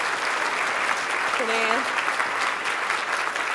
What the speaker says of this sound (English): Can we have another round of applause for Zelda and her great work with the Feminist Caucus